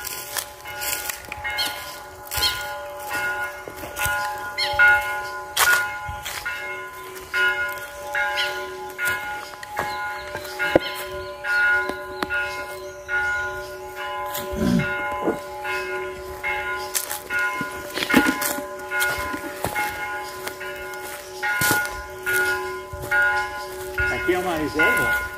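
A church bell rings near a former seminary, with steady repeated strikes and a lingering metallic ring across the whole span, loud and fairly close.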